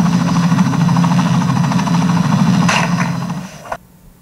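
Helicopter flying near a bear, a loud, steady rotor chop and engine drone that cuts off abruptly near the end.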